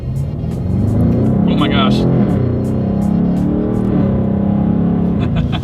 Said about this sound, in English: Let's do a quick little acceleration here in the M850i, giving the control back to the car